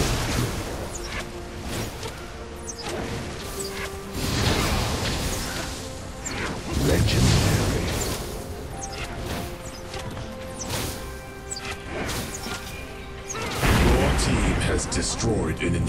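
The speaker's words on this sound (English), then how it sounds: "Your team has destroyed an inhibitor." Explosive blasts and crashing impacts fill a League of Legends match as an inhibitor is destroyed, with repeated booming hits, whooshes and players talking over the combat.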